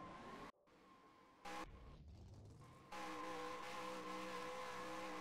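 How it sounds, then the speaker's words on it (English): Race car on a speedway grid doing pre-race burnouts, a loud sustained engine roar with tire noise that cuts out briefly, surges back, then swells louder and steadier. "And McKay still doing burnouts."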